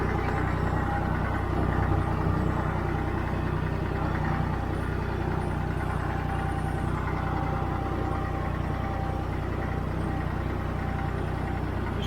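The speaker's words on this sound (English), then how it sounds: "This tractor has a 3-cylinder Perkins 152 cubic inch engine" Massey Ferguson 50 diesel tractor with a 3-cylinder Perkins 152 cubic inch engine idling: a steady, close low rumble throughout with no change in pace and no talk.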